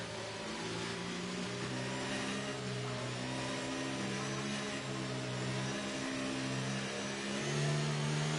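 Several F1 23 video game race cars accelerate together at a safety car restart, a steady loud chorus of engine tones rising and overlapping for the whole stretch with no talk.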